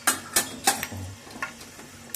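Mustard seeds popping in hot oil in a pan while cooking Nellore fish curry, a handful of sharp crackles spaced irregularly over a faint low sizzle.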